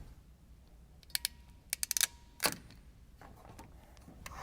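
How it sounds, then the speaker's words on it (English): A crimp tool squeezing a terminal onto a stripped wire for a Holley Sniper EFI wiring harness, giving a quiet run of sharp ratchet clicks, some single and some bunched together, followed by a slightly louder snap. "Strip the wire and install one of the supplied terminals using the proper crimp tool"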